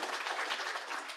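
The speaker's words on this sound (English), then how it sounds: "I want a round of applause for myself" A conference symposium audience gives a brief burst of scattered clapping, faint and short, with no voices over it.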